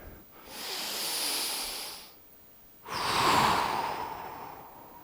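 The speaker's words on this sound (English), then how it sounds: "Breathing here." Slow, deep breaths during a yoga class, two long airy exhales with a pause between them, close and fairly loud with no talking.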